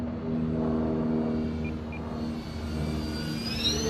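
A FlightLine OV10 Bronco radio-controlled model plane flies overhead with a steady droning electric motor hum that holds at a constant, moderately loud level.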